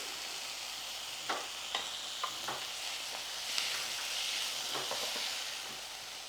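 Fenugreek leaf pickle cooking on a low flame, a steady soft sizzle and hiss with a few light stirring scrapes and taps throughout.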